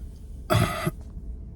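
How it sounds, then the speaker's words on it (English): A single harsh cough bursts out once, brief and close, against a quiet background. "And I got this cough."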